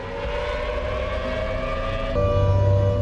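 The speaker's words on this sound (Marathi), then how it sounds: "शत्रूचा मिसाईल हल्ला होण्यावेळी सायरन वाजण्यास सुरुवात होते।" Civil defense air raid siren warning of an enemy missile attack, a loud steady wailing tone that swells in strength partway through, heard alone without talk.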